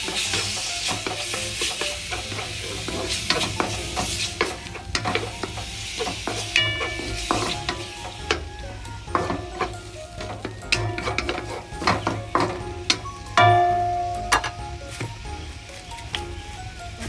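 Minced pork sizzles steadily in a hot pan with tomatoes as it is stir-fried for macaroni, with frequent scrapes and clacks of the spatula against the pan throughout.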